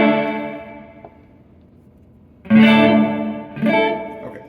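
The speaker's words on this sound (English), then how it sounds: "this is effectively a simple chorus pedal too" Electric guitar played through a chorus pedal with detune, giving sustained shimmering chords that ring out and fade before two more strummed chords swell up, alone with no talking.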